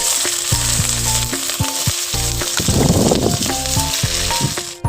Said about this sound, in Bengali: এবার ফ্রাইড রাইস করার জন্য আমি সবজিটা ভেজে নেবো গাজর আর ক্যাপসিকাম